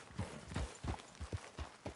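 A horse's hooves clip-clop in a quick, even trot, each strike sharp and close, roughly two beats a second with no other sounds.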